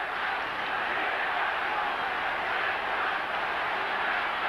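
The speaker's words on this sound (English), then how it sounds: "The crowd at fever pitch." A packed 1990 Australian football crowd at a Footscray versus Richmond match roars after a goal, a steady, dense wall of cheering that holds at the same loud level throughout with no break.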